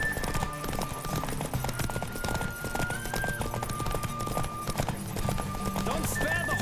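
Hoofbeats of a horse galloping in a race in The Witcher 3 pound steadily and continuously, a busy rapid clip-clop under game music and ambience.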